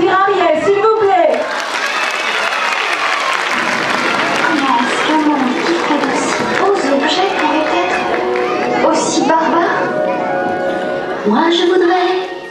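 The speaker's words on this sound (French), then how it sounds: "Nous applaudir Ariel, s'il vous plaît" An audience claps and cheers continuously, loud and close, mixed with excited voices and chatter throughout.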